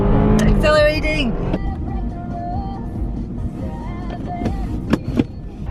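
A car accelerating on the road toward Blackpool, heard from inside as a rising engine tone under road noise, with a voice exclaiming briefly at the start.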